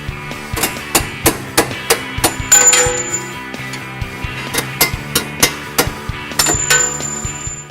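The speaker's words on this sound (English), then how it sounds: "You may need the mallet and punch to drive the bolts out." A mallet strikes a punch to drive strut bolts out of the knuckle on a 2003–2005 Honda Pilot, a steady series of sharp metallic clanks repeating roughly every half second, loud and close, with no talking.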